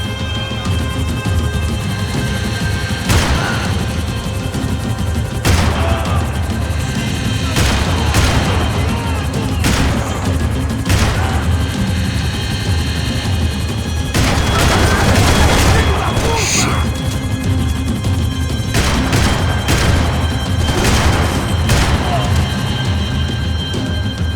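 Repeated gunfire bursts and booming shots in a video game firefight, loud and sustained across a chaotic scene, with shouted voices and music running underneath.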